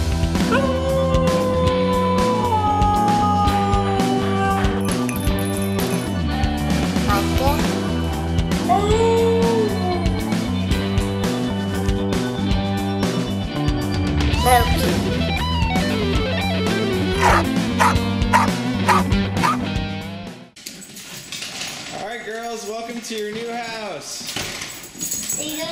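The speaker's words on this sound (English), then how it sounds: "was a talking husky." A husky howls and 'talks' in long, wavering, yodel-like vocalizations, with people speaking around it and background sound covering much of the stretch. The dog's wails stand out more clearly near the end.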